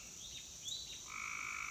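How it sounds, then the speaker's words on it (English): A frog croaks far off in the evening beside a backyard pool under repair, faint repeated calls over steady insect-like background hum, with no talking. "Hear a frog off in the distance."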